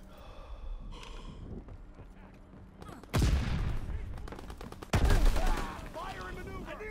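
Gunfire in a video game fight cracks in two sharp, loud bursts, each ringing out into a rumbling tail, mixed with gasping, grunting voices and scattered effects.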